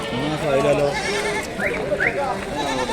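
Goats bleat at a crowded goat market in Kalampur, where young kids about three months old are on sale; a couple of rising calls stand out amid steady chatter and talk from nearby people.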